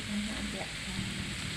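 Bean sprouts and vegetables for spring rolls are stir-fried over medium-low heat with oyster sauce and chicken stock, producing a steady, close sizzle with faint stirring scrapes.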